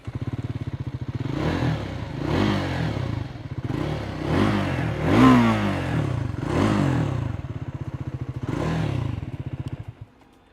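A Triumph Scrambler 400X motorcycle's exhaust note, loud and close, with the engine revved in repeated swells over a burbling idle, about six blips before it cuts off.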